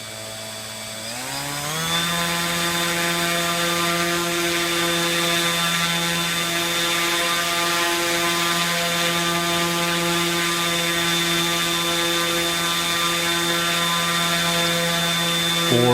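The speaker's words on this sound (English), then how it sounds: "here we are again with the second test on the Master Air Screw to see what current pull it will have at 450 grams of thrust" A 3DR Solo drone motor spins a Master Airscrew folding propeller on a thrust test stand, rising quickly from a lower whir to a steady, loud, high-pitched buzzing whine that holds evenly before cutting off at the end.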